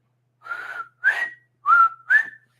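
A person whistles an imitation of a quail call: two clear two-part whistled phrases, each a level note followed by a rising one, close and alone against silence.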